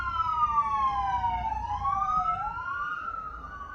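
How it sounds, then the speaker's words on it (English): An emergency vehicle siren wails outside a share house, its rising and falling tone bending as it passes, loud and alone over a low traffic rumble. "I just let that siren play and move on."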